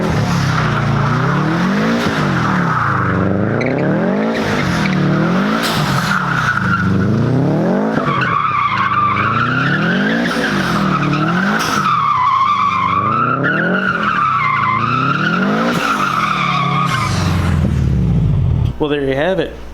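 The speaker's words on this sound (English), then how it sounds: "see if we can do a couple of skids" A Subaru WRX STI converted to rear-wheel drive skids around a parking lot, its engine revving in repeated rising surges while the tires squeal through each slide, loud and close for nearly twenty seconds, with a voice briefly heard.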